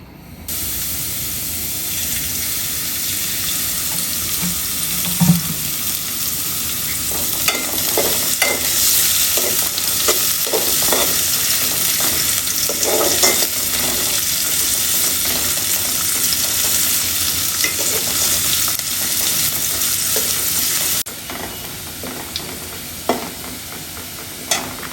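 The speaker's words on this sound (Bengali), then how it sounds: "এখন পেঁয়াজটা তেলানি দেব আমি।" Chopped onions fry in oil in a cooking pot, a steady close sizzle and hiss with occasional stirring scrapes and clinks that run throughout and ease slightly near the end.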